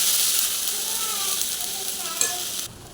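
Bori, lentil dumplings, sizzle in hot oil with cumin and dry chilli, a loud steady frying hiss with faint stirring that drops away abruptly near the end.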